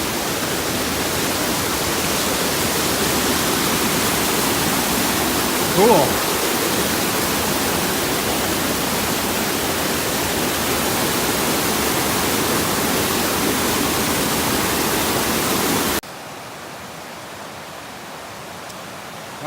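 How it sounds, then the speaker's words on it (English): Loud, continuous rushing water of Cirque Lake's outlet creek in Banff National Park roars steadily like a churning torrent, with a brief spoken word partway through before the roar drops to a quieter hiss. "the outlet creek is pretty cool, because it is basically a torrent"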